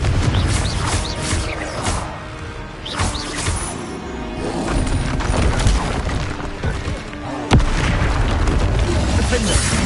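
Confringo blasting spell explosions in Hogwarts Legacy, a dense run of booming blasts and crashing impacts over constant rumbling combat noise, with spells called out by voice.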